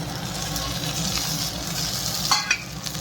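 Tomatoes tipped into onions frying in oil for a brinjal bharta, with a steady close sizzle and brief bursts of scraping and spattering near the end.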